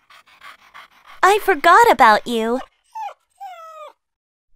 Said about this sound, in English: Oh, how did this dirty dog get in here?